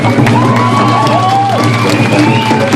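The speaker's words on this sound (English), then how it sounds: "All right, let's give yourselves a round of applause." A crowd at an Idle No More rally in Saskatoon cheers and whoops loudly, with shouts and clapping blending into a steady roar close by.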